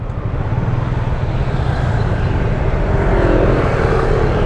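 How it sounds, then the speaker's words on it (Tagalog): Road traffic on Ortigas Avenue rumbles steadily, a loud low engine drone with passing vehicles heard from inside a car, continuous and without talk. "Ang traffic sa Ortigas Avenue mga ka-rides"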